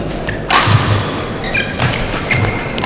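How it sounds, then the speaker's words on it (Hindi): A shuttlecock is smashed down in a net kill during a men's singles university badminton match, a sharp thud heard over loud, steady hall and crowd ambience. "और इस बार नेट किल किया, अच्छी हाइट है रवि की"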